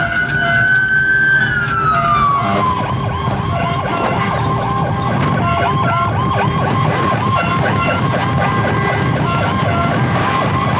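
A Chilean fire truck's siren wails continuously and loudly, first a rising and falling sweep, then a rapid pulsing yelp repeating steadily over heavy engine rumble and traffic noise, with no talking.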